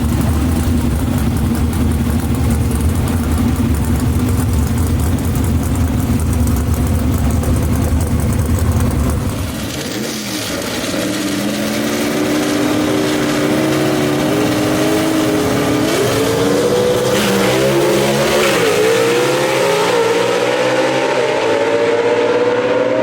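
Big block Chevy gasser drag cars, including a 1966 Chevy II, roar loudly down the strip at Mooresville Dragway, a sustained engine blare that cuts out briefly, then climbs again through rising revs as the cars race.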